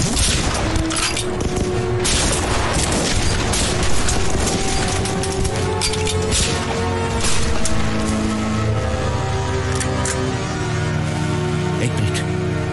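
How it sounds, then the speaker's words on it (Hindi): Heavy gunfire in a Hindi war film battle scene set against Chinese troops, with loud sustained volleys and booms that continue densely across the whole stretch and have a busy soundtrack layered beneath. "गोलियां चलाता रहा मेरे भाई।"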